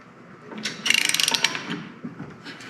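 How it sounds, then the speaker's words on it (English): Roxor axle inner nut being tightened while the hub is turned, giving a close run of quick metallic ratchet clicks in a steady burst, followed by scattered lighter mechanical ticks and rattles. "tighten the inner nut up while rotating the hub"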